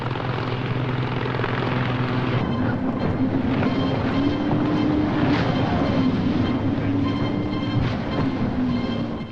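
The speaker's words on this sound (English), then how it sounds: "supported by naval air squadrons operating Sea King and Wessex helicopters" Naval Sea King and Wessex helicopters produce a steady, loud rotor and turbine drone with a wavering whine that shifts in pitch, continuous and without talk.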